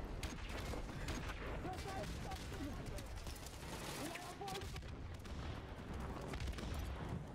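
Dense, continuous barrage of grenade explosions and rapid gunfire from the video game H2M, loud and unbroken throughout, with booming blasts layered over crackling shots and voices shouting beneath the battle.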